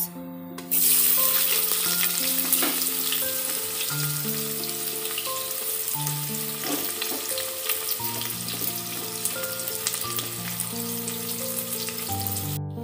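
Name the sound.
onions frying in hot oil with panch phoron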